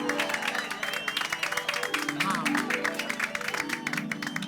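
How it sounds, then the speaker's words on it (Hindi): Loud clapping from a small group of men in a housing society honouring a teacher, mixed with lively voices and a tonal background underneath throughout. "भाई हमारी सोसाइटी के आदरणीय शिक्षक महोदय के लिए एक बार जोरदार तालियां हो जाए"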